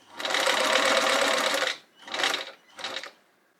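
Sewing machine stitching a crazy-quilt Japanese rice bag, running in one long steady burst followed by two short bursts, close and loud, with no voices.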